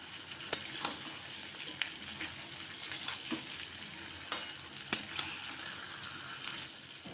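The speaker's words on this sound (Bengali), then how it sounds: "এবার নাড়াচাড়া করার পর চিকেনগুলো দিয়ে দেব।" Salted chicken pieces fry and sizzle quietly in a pan, with several sharp scrapes and clicks from stirring scattered over a steady crackling hiss, no voices.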